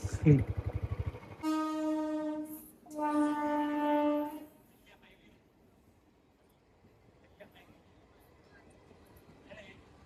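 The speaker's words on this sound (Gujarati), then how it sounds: "ટ્રેન આવી ગઈ હતી, ફાટક બંધ હતો" A throbbing engine rumble gives way to two long, loud train horn blasts as a train passes a closed level crossing, then the scene falls quiet apart from faint distant noise.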